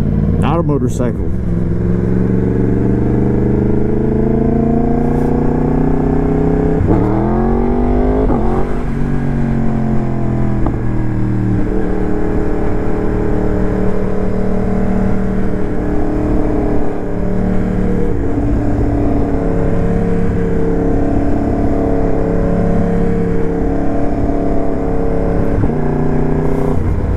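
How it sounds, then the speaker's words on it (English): A Yamaha MT-10 motorcycle engine drones steadily throughout a ride in Florida, with rising and falling revs as the rider accelerates and shifts, loud and continuous under wind noise. "Motorcycle."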